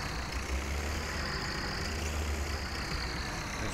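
A loader tractor in a farming video game idles and reverses, giving a steady, loud engine drone with a heavy low rumble that holds evenly throughout.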